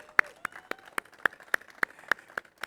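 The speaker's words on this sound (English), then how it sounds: "Let's give Frank a big hand of applause" A few audience members clap for a speaker at a college event, slow separate claps in an uneven rhythm, each one sharp and close.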